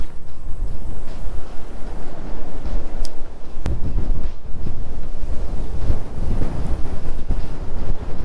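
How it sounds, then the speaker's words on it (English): Strong wind buffets the microphone at a lake, a steady loud roar of gusts with low rumbling and a few sharp knocks, no voices. "The wind is gonna get even worse later on in a few hours."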